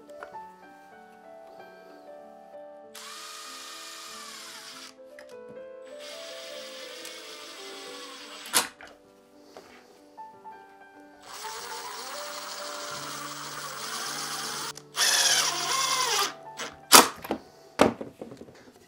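A power drill driving screws into two clamped wooden boards, heard as several separate whirring bursts of rising and falling motor pitch, broken by short gaps and sharp knocks, close and fairly loud.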